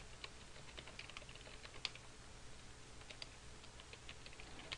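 Typing on a computer keyboard while entering data into an Excel 2010 spreadsheet: light, quiet, irregular key clicks pattering close by over a soft steady background hum, with no voices.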